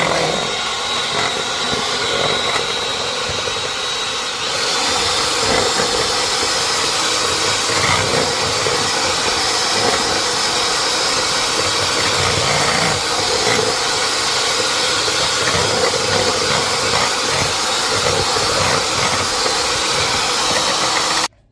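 Electric mixer beating heavy whipping cream, a loud, steady motor whir with a grinding edge, running continuously and alone throughout.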